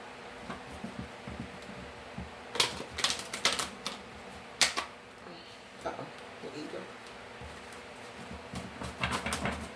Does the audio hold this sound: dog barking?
no